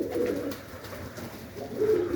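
Pigeons coo softly in a few low, throaty bursts, one near the start and another near the end, close by and fairly faint.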